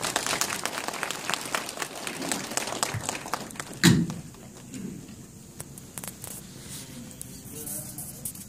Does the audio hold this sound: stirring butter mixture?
no